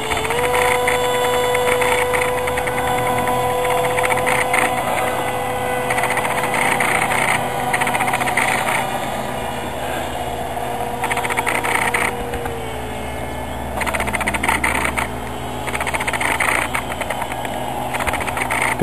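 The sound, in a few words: model autogyro engine in flight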